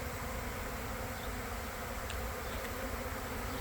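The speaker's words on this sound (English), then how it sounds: "That's what it looks like when a swarm moves in." A swarm of bees buzzing in the open near a wood pile and hive, a dense, steady hum from many insects that stays continuous and fairly faint, with no voices.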